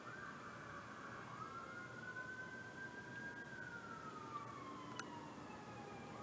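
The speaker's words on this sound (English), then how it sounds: "An ambulance is going by." An ambulance siren passes by outside, a faint, distant wail drifting slowly in pitch under steady background hiss, heard alone.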